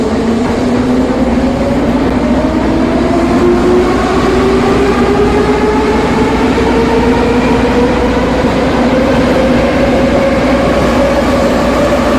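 A Kyiv metro train in the game Kyivmetromasters runs loud and continuous, its motor whine rising steadily in pitch as it accelerates over a constant rumble.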